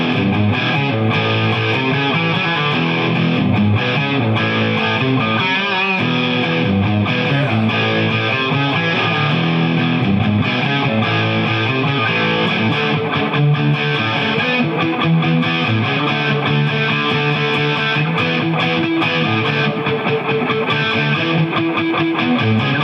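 Heavily distorted Gibson SG Standard electric guitar played continuously through an amp, thick and saturated, sustaining chords and notes at a steady loud level.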